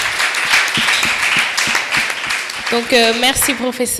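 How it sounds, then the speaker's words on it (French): Audience applause at a panel discussion on culture and traditional values, a broad clapping wash that continues under a man's French speech starting partway through. "Des applaudissements, s'il vous plaît."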